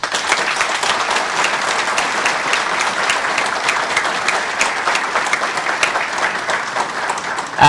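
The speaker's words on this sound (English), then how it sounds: "the audience is prohibited from applauding the debaters, except for now when we announce each debater" Steady, dense applause from a debate audience greeting a party leader at a televised 2011 Jamaican leadership debate, loud and sustained throughout with no voices over it.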